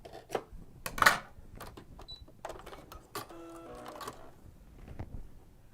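A sewing machine running a zigzag stitch with a cording foot, giving quiet, close stop-start bursts of rapid mechanical clatter with short pauses and light handling knocks between runs.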